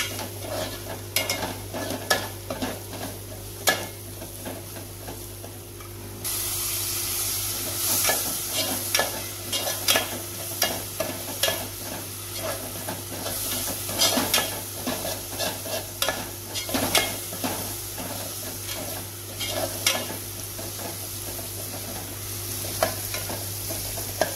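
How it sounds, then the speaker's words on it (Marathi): Masala for tisreo (clam) sukka roasting in a pan, with steady sizzling under repeated scraping strokes of a spatula stirring it, close and continuous, with no voices. "भाजून घेवपाचो मसालो मागीर मसालो भाजल्यार बरें जाता"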